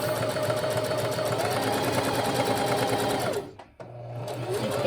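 A sewing machine runs a 2.5-length stay stitch half an inch from a hem edge, a loud steady whirring drone that cuts out briefly near the end, then starts up again.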